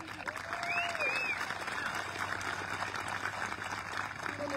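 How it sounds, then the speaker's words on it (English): A graduation audience at the Freeport High School Class of 2022 ceremony applauds in a large hall, steady broadband clapping throughout with a few faint whistles and crowd noise mixed in. "I know that in my heart, yes, absolutely, it's worth clapping about."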